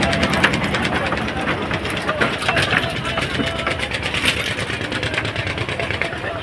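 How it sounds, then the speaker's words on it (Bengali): A motor boat engine chugs at a river ghat, a fast rhythmic mechanical throb running steadily and fairly loud throughout. "নৌকা বাজছে"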